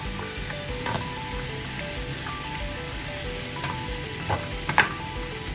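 Beaten eggs, five to six of them, mixed into a thick batter for a Spanish omelette, a continuous hiss with a few sharp clinks and scrapes, close up, no talk.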